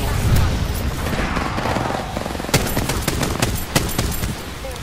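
Gunfire in the video game Apex Legends, a steady rattle of automatic shots with sharper single cracks standing out, fairly loud and continuous, with faint speech mixed in.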